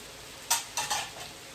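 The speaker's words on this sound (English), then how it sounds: "now I'm going to give this a stir" A utensil stirs sliced zucchini frying in a pan, with a few distinct scraping knocks over a continuous soft sizzle and no talking.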